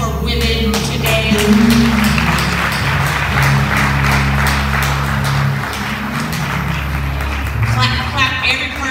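An audience at a live women's honoring event claps for women, a dense steady patter of many hands throughout, loud and close, with voices and a low rumble mixed in beneath.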